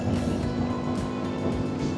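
A motorcycle engine held at full throttle on a high-altitude Ladakh ride, a steady strained drone with wind rush, heard close from the rider's position.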